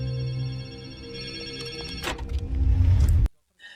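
Public payphone ringing in a city street scene from a film, a sustained tonal ringing with harmonics over a low rumble, building louder before cutting off abruptly.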